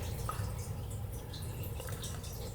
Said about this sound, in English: let's give this some water, a good water, and close it up.